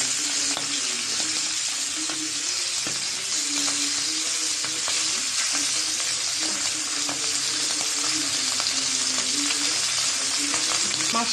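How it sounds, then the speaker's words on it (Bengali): Fish frying in oil in a pan, a dense, continuous crackling sizzle that stays loud and close throughout, with faint scattered pops and no talking. "মাছটা ভাজা হচ্ছে"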